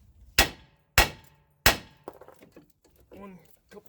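Three loud, evenly spaced metal whacks ring out as a hammer knocks loose the lower control arm on a 2001–2005 Honda Civic during wheel bearing work, followed by quieter clinks and some talking.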